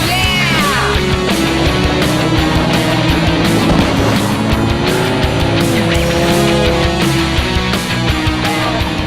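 A car engine drones steadily, rising and falling, while someone car surfs on it in Mongolia. The engine is loud and close, with no voices.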